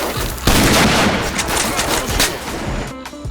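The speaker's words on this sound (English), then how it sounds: "boy oh boy does this Mosin sound vicious" Mosin-Nagant rifle fire in the game STALKER, with sharp loud cracks and bursts of gunfire among heavy combat noise throughout, ending in a quieter tail.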